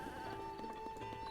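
A ram bleats in Zelda Breath of the Wild, a short wavering animal call repeated in quick pulses, fairly faint over steady game background ambience.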